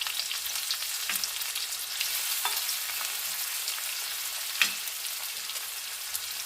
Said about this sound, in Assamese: মই এইখিনি অকণমান ভাজি ল'ম।